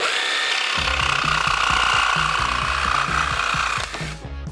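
A handsaw cuts through a scrap piece of 2x4 lumber in a steady back-and-forth rhythm of close, rasping strokes over a constant background hiss, stopping just before the end.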